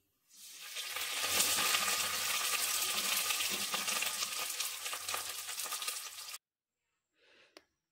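Rohu fish wrapped in pumpkin leaf sizzles and spits steadily in a hot frying pan for several seconds, a close, continuous crackle that cuts off abruptly, followed by near silence and a faint clink.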